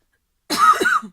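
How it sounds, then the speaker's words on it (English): A single short, rough cough, close and fairly loud, surrounded by silence. "And of course I'm going to cough."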